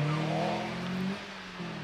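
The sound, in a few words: Mazda MX5 sports car racing up Prescott hill climb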